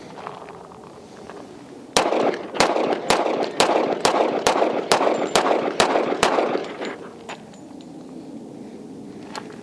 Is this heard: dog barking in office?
no